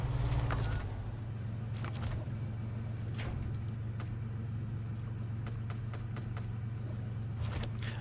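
A truck's engine drones at a low, steady pitch as it strains uphill in the off-road driving game SnowRunner, with scattered clanks and knocks over the constant hum.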